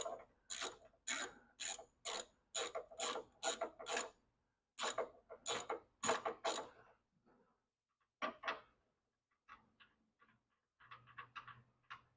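A ratchet removes a 17 mm bolt on a BMW E30, heard as bursts of rapid ratcheting clicks in a steady rhythm, then sparser, softer clicks as the bolt loosens, close and with no speech.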